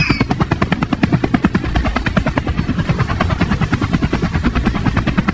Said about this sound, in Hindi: क्या तुम्हें हेलीकॉप्टर की आवाज सुनाई नहीं दे रही है?